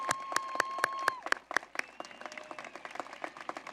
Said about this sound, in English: Let's give them a round of applause for their unwavering support.